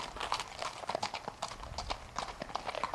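Fox trotter horse, a 14-year-old gelding about 15 hands, steadily clip-clopping along a trail ride, its rhythmic hoofbeats close and moderately loud with no talk over them.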